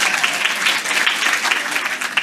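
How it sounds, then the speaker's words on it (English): An audience claps in a dense, continuous patter of many hands, fairly loud and steady with no voices standing out. "let's clap for them."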